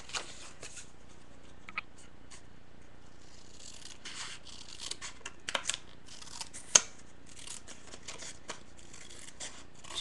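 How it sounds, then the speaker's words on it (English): Soft, scratchy rasping of scissors distressing paper edges in short repeated strokes, close and fairly quiet, with no talking. "I'm going to take my scissors and distress the edges"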